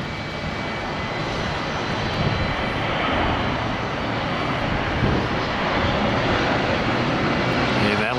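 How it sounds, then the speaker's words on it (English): An Airbus A321 jet passes low and slow overhead, a loud, steady broadband engine roar that fills the whole stretch without letup. "Looks like a low and slow"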